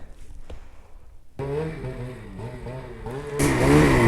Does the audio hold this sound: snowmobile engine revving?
yes